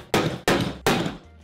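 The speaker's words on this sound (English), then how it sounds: "Center punch your holes." Three sharp metallic hammer strikes on a center punch marking hole locations on a steel ammo can, evenly spaced, close and loud, each with a brief ringing decay.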